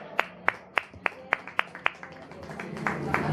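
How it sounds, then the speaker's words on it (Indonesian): Audience clapping, about nine crisp, evenly spaced claps in a slow rhythm that then blur into a softer, scattered patter with faint voices beneath. "Tepuk tangan dong buat BCL."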